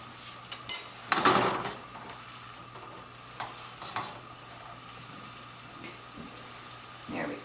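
Marsala sauce bubbling in a pan beside pork medallions makes a soft continuous simmer, broken by a cluster of loud metal utensil clanks early on and a few lighter pan knocks afterward.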